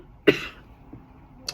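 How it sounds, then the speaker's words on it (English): A single sharp cough from a person with a half cold, close and fairly loud, followed by a faint throaty sound and a brief rasp near the end. "sometimes I get into like coughing fits"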